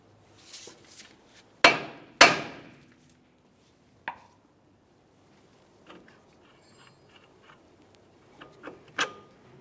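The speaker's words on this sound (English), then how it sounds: "We're going to lightly tap along this area" A hammer lightly taps a tie rod end on the steering knuckle of a 2002-2009 Chevrolet Trailblazer, giving a few sharp, close metallic knocks: a pair near the start, one a little later, then softer scattered taps.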